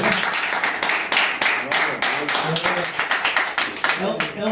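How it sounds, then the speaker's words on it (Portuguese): Church congregation applauding during a service, loose rhythmic clapping in a reverberant room, steady and fairly close, with some voices mixed in. "Vamos dar uma salva de palmas."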